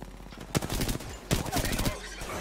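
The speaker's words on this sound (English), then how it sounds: "The enemies are shooting." Enemy gunfire in Apex Legends, with two sharp shot clusters and scattered lighter rounds over busy game noise at mid distance.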